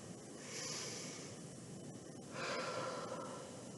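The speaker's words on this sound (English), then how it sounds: "take a nice deep breath" A slow, deep breath during a relaxed yoga session: two long, airy swells of inhaling and exhaling, close and quiet, with no talking.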